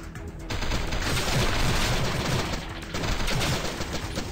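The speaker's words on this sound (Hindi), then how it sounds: "ये क्या बंदूक है, खतरनाक है।" Rapid, sustained gunfire from a gun in the video game Sift Heads Reborn: a dense, loud fusillade of shots rattling almost without pause, easing briefly before another burst.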